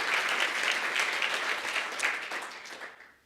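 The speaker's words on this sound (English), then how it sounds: "How about a warm round of applause for the Tucker team?" Audience applause at a university distinguished lecture, a steady round of clapping from a seated crowd that holds even and then tapers off toward the end.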